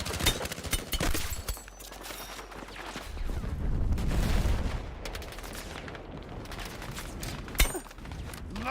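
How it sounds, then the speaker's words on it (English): Battle royale combat in the video game Battlefield 6, with a loud burst of gunfire and booming airstrike explosions rumbling through the middle, then a sharp shot near the end, no talking. "You are danger close to an airstrike."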